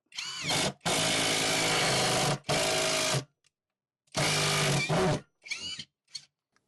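Greenworks 24V impact driver with a Phillips bit driving a screw with no pilot hole, in three loud bursts of whirring and rapid hammering separated by pauses, then a few short trailing bumps.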